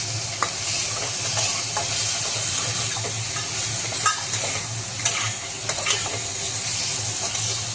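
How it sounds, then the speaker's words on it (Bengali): Cut cabbage stir-fries in a pan with salt, a continuous close sizzle punctuated by scattered scraping and stirring clicks, no voices. "বাঁধাকপিটাও ভালোভাবে এখন ভেজে নেব।"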